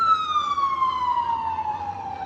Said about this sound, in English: sorry, just ambulance is passing,